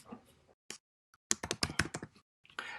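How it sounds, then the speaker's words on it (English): Someone types a name on a computer keyboard in a quick burst of close, crisp key clicks, with a few scattered taps before and a short pause after. "they can type in their name"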